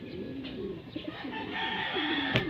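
Soft coos and fluttering from racing pigeons returning to their loft, with light outdoor ambience and a brief sharp flap near the end.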